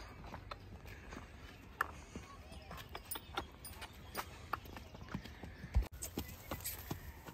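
A 40-year-old mare's hooves clop on the ground at a distance, irregular single strikes scattered over faint background noise.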